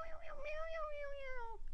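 A cat meows in a long, drawn-out, wavering call lasting over a second, close and clear indoors, with no talking over it.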